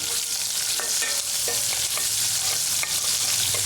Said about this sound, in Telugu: వీటిని కాస్త ఉల్లిపాయ మెత్తగయ్యేటంత వరకు అంటే ఒక 2 నిమిషాల పాటు ఇలా వేయించాలి